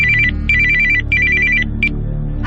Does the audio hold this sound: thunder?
no